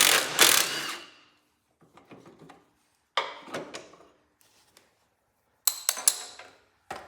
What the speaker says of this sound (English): I'm just going to use a socket on the 9/16.